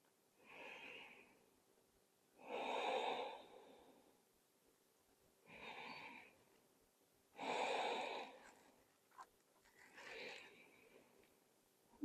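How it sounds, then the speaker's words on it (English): Slow, deep breaths during a yoga child's pose, five long inhale-exhale swells spaced a couple of seconds apart, soft and close in a quiet room. "Breathing slowly."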